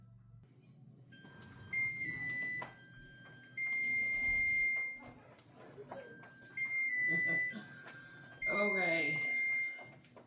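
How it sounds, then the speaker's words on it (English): A kitchen oven beeps to signal it has finished preheating, four separate long electronic tones spaced a couple of seconds apart, loud and close, with a person briefly speaking. "As you can hear, the oven is preheated."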